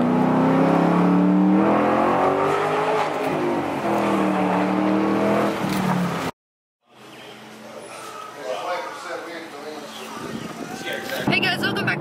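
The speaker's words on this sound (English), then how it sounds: "I'm trying to yell over the road noise because it's really loud" Steady low road roar fills a moving car on the way to Austin Cars and Coffee, with loud, strained talking over it for the first half, then a brief cut and the rumble continuing more quietly with lighter voices.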